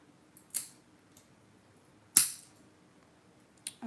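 A nail clipper cuts long fingernails down short in a quiet room, giving three sharp, close clicks spaced apart, the middle one loudest, with faint handling sounds between.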